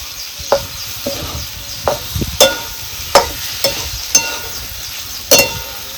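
Bitter gourd curry is stirred in a pan with a quiet sizzle, and a spoon scrapes the pan in about eight distinct, unhurried strokes, each one close and clear.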